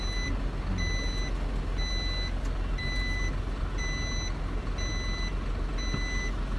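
A vehicle's reversing alarm beeps at a steady repeating rhythm during a driving test course manoeuvre, over constant engine and outdoor rumble, with no speech.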